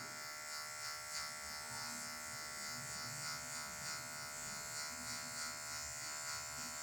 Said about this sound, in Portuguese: Então eu tirei aqui, ó, com a zero alta, somente a pontinha da máquina, só os detalhes, ficou bem graduado